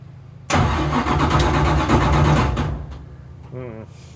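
A car engine cranks and catches, then revs loudly and steadily for a couple of seconds before settling down, with a short burst of a person talking near the end.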